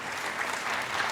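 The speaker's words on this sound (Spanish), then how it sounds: "Aplaudamos a Claudia, aplaudámosla con entusiasmo." Audience at a mining trade fair applauding a speaker, steady dense clapping throughout at moderate level, no voices standing out.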